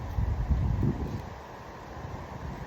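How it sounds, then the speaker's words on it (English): Steady low rumble of wind buffeting outdoors, gusting more strongly in the first second before easing to a constant roar; no voices. "It's literally about to rain and it's super windy."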